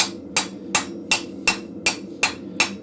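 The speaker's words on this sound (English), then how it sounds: "you're hitting always on the same spot of the anvil, but you're moving the steel around" Steel struck by a blacksmith's hammer on an anvil at a forge, eight evenly spaced ringing blows in a steady rhythm, close and clear with no talking.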